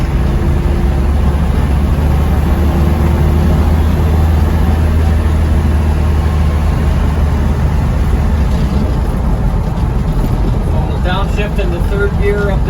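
A 1991 Land Rover Defender 90 with the 200tdi diesel pulls uphill after a downshift into third gear. The engine drones steadily and loudly from inside the cabin, with continuous road noise throughout.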